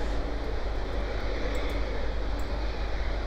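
Space plane engines roar in Kerbal Space Program, a steady, loud, continuous drone with deep rumbling low end and no speech.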